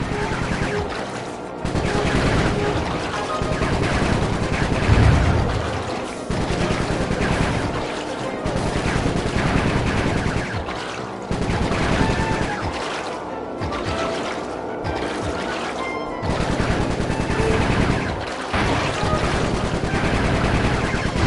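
A video-game gun in Sly 3 firing in repeated short bursts, loud rattling volleys separated by brief pauses, running on for about twenty seconds.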